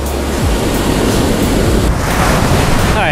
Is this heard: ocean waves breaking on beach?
yes